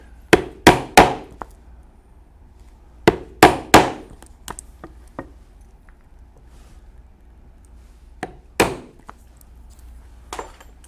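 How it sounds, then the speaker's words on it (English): A leather strap for a motorcycle saddlebag takes sharp hammer blows on a hole punch, struck in quick clusters of two or three loud, close knocks separated by quiet pauses, with a few lighter taps between. "And we will punch the holes where we will lace this strap to the bag."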